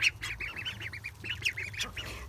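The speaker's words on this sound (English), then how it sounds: "So the other ducks are over here." Several ducks quack in a garden in a lively, overlapping run of short calls, fairly close, with a low background hum and no talking.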